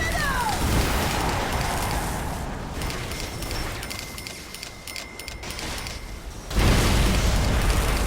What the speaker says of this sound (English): How are ear-splitting explosions and screams of agony soothe, Bobby?